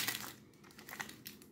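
A plastic ice cream wrapper crinkled and rustled by hand in short, light bursts, close and quiet, with no talking.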